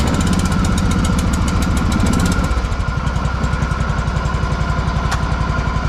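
A John Deere Hydro 165 lawn tractor engine, already warm, cranks, then catches and settles into a steady, rapidly pulsing idle that is loud and close throughout.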